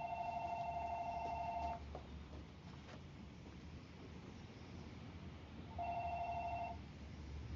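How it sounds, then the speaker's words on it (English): A phone rings with two bursts of an electronic ringtone, one at the start and another near the end, separated by a stretch of quiet room tone. "Ah, my phone's ringing."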